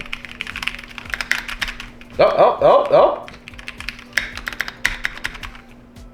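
Keys on a Mac computer keyboard are pressed during a game in quick, close clattering taps, with one dense burst of typing in the middle and people talking around it.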